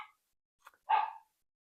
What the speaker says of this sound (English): got my dog's barking, just ignore him.